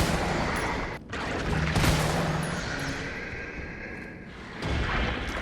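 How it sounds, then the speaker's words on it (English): Magnum revolver rounds fired at a Hunter Gamma in the video game Resident Evil 3 Remake, heavy booming shots amid a loud, dense game soundscape with a sharp blast near the two-second mark. "it took 2 Magnum rounds to take down a Hunter Gamma"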